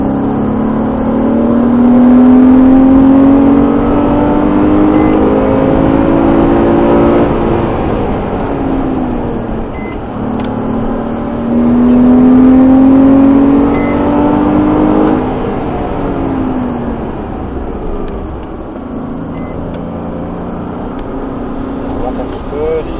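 A car accelerates hard with the pedal floored, its engine whine climbing in long repeated surges and easing off between them, while people talk over it throughout.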